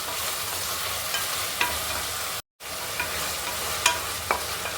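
Capsicum sizzling in oil in a pan while cooking tomato bath, a steady close frying hiss with a few light clicks of a utensil stirring, and one brief cut partway through.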